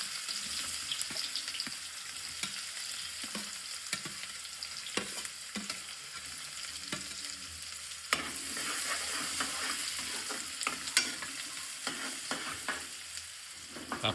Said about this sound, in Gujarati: તો આપણે પહેલાં ડુંગળી એડ કરીશું અંદર.